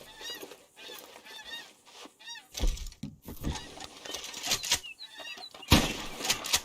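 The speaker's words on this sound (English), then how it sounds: "More ducks." Ducks honking in Red Dead, repeated nasal calls in short bursts with gaps between, close and fairly clear, mixed with rustling and thumps from the game.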